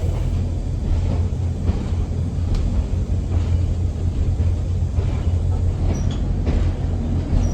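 Steady, bumpy rumble of a heritage train riding the Nene Valley Railway on its approach to Wansford, a loud continuous low roar with rattling from an unsealed vestibule and no voices.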